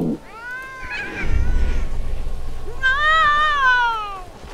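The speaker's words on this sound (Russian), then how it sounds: "Вы чё мяукаете-то?" Two drawn-out, wavering cat meows from the video game Shelter 2, loud and close, with a low rumble between them.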